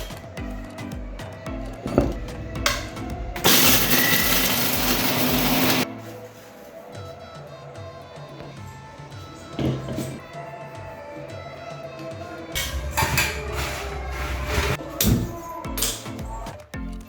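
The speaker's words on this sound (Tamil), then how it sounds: "இப்போ உடைச்ச ரஸ்கை மிக்சியில போட்டு பவுடர் மாதிரி அடிச்சு எடுத்துக்கலாம்" An electric mixer grinder blitzes broken rusk into powder in two loud, harsh bursts of whirring with rattling in between, and clinks and taps around the runs.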